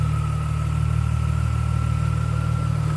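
A 2000 Plymouth Prowler's 3.5-liter 24-valve V6 idles steadily with its hood open, giving a smooth, even, close-up engine hum with a faint higher whine and no talking.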